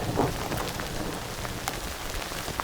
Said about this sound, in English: Raindrops. Let's get out of here.